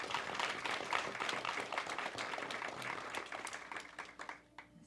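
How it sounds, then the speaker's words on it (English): Audience applause for elementary school students at a school board meeting, moderately distant clapping from a modest crowd that gradually thins out and trails off into scattered claps. "So let's give the students a round of applause."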